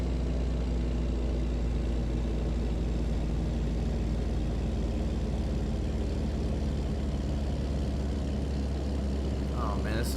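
A truck engine drones steadily in a trucking video game, a continuous low rumble climbing uphill without pause.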